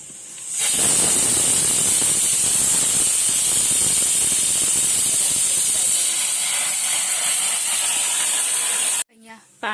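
A pressure cooker steams loudly and continuously while chicken cooks inside for biryani, a broad hissing roar that fills nearly the whole stretch before cutting off abruptly near the end.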